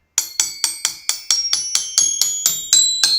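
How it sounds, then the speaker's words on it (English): Crotales, pitched tuned cymbals struck with drumsticks, ring out in a steady series of about thirteen bright metallic strikes, each clear, close and sustained, with no voices. "So they're kind of like a very fancy glockenspiel, for want of a better description. They're, pitched, tuned cymbals or bells,"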